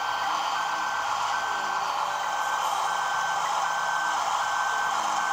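Vehicle reversing beeps in the Farming Simulator 18 video game, a steady high repeating beep over a constant engine and noise bed, moderately loud, no talk.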